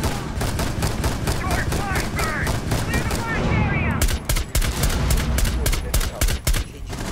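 Rapid automatic gunfire in the tactical shooter Rainbow Six Siege, loud close bursts of sharp cracks in quick rhythm, with short gaps between volleys and players talking underneath.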